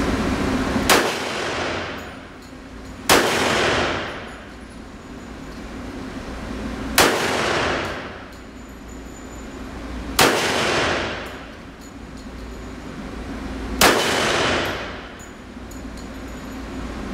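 A Tisas 1911 pistol in .45 ACP fires five sharp, loud single shots spaced a few seconds apart, each crack followed by a short decaying echo.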